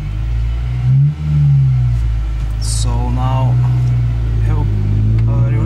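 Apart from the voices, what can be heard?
manual car engine as it drives off on a hill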